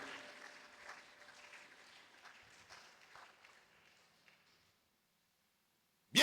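Congregation applause at a French-language church service, a broad crackling wash of many hands that fades gradually over about four seconds into silence.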